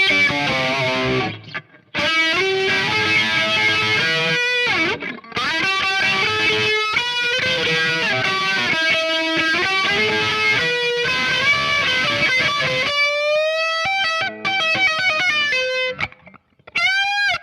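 Electric guitar played loud and continuous through a Fender Mustang Micro's high-gain amp model with a flange effect, with thick distorted chords and sustained notes, brief gaps, then sweeping swirling tones near the end.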